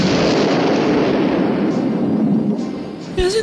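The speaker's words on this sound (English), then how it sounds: "About the really good fireworks, like the really expensive kind." Expensive fireworks blow up aboard a ship in a cartoon dub, a loud sustained rumbling blast that slowly fades, ending with a sharp bang and a brief tonal whine.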